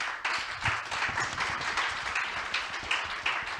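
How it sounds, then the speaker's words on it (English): An audience at a climate finance forum claps for the panel, a moderate patter of hands with a few sharper individual claps, fairly close and steady, no voices over it. "So a round of applause for our panels today."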